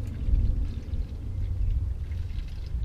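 Red snow foam liquid pours steadily into a jug for washing a motorbike, a continuous close low gurgling splash with no talk over it.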